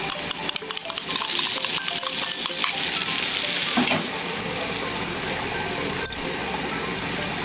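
Ginger tossed into a hot wok with lentil and vegetable stir-fry, sizzling loudly and steadily while a utensil scrapes and clatters in quick repeated strokes, close up, without talk.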